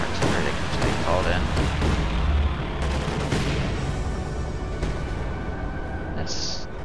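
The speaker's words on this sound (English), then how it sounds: "That's Stuka close air support." A Stuka close air support strike in a World War II strategy video game, with repeated heavy explosions and bursts of gunfire rolling together in a loud, dense barrage, while a voice talks over it.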